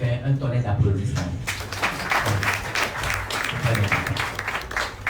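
At a conference, the audience claps in a loud, dense round that begins abruptly after a voice speaks, then carries on steadily for several seconds.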